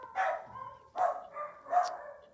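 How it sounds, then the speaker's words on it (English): Dogs bark nearby in three distinct, evenly spaced woofs, heard moderately loud in a quiet indoor room during silk ribbon embroidery, with no talk over them. "The dogs are barking too loud."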